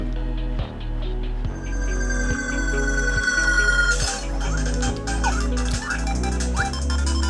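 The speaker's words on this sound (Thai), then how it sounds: "เคอร์บี้เสียงไม่กระตุกนะครับ" Kirby game music and sound effects played on an Anbernic RG35XX handheld: a steady looping chiptune bassline with bright melodic tones and short effect chirps, clear and uninterrupted.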